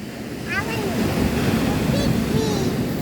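Big ocean waves make a continuous roaring wash mixed with wind noise at a seaside flood-control area, while children's voices speak over it.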